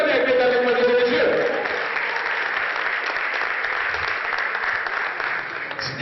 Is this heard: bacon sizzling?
no